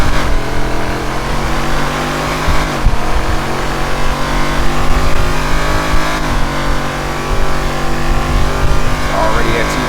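A 2024 Mercedes-Maybach S680 Brabus 850 accelerating hard toward top speed, its engine a loud sustained drone heard from inside the cabin with slight pitch shifts, while someone talks over it.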